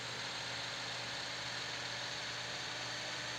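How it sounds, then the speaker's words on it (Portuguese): A Scania LK V8 truck engine drones with the engine brake on in a driving video game, a steady, even, unbroken rumble and hiss with no talking. "Chamar aqui no freio motor, que a descidinha é cabulosa"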